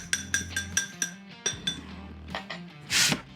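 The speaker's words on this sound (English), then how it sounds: "Stir this up real quick." A utensil stirs a mix of Italian seasoning and crushed red pepper flakes in a bowl, giving a quick series of bright metallic clinks in an irregular rhythm, close and crisp, ending in a brief scrape.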